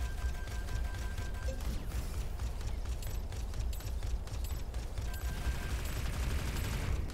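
Bots in a video game fire weapons continuously, a dense, steady barrage of distant gunfire with scattered sharper cracks, no voices over it.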